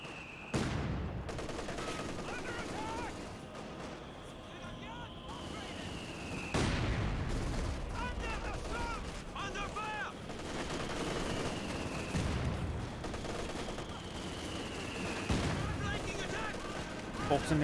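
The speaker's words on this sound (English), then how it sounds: "Not landmines, mortar." Mortar fire in the World War II strategy game Company of Heroes 2 thumps out in several heavy booms over a steady bed of battle noise, while a commentator talks over it.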